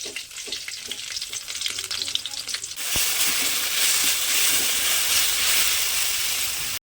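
Drumstick leaves dropped into hot oil, a light crackle that suddenly swells into a loud, dense, steady hissing sizzle that keeps going, heard up close.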